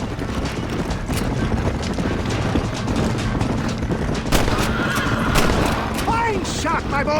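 Gunshots in the Western video game Red Dead Redemption, several sharp cracks scattered among galloping hooves, horse whinnies and talking characters.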